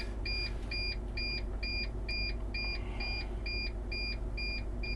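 Low air pressure warning on a Prevost H3-45 coach bus, a steady train of short two-tone electronic beeps repeating about twice a second over a low idling engine rumble.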